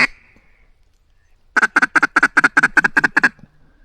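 A run of about a dozen mallard duck quacks comes in quick succession during a hunt, loud and close, following a brief faint call and a stretch of quiet.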